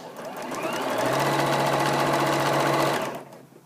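A sewing machine runs at its top speed, a loud, steady, high-pitched whir that builds over about a second, holds for two seconds, then cuts off. No one speaks.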